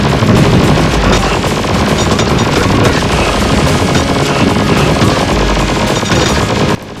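Machine gun fire in a top-down arcade shooter game: loud, dense, continuous rapid bursts of gunfire filling the whole stretch without pause, cutting off abruptly at the end.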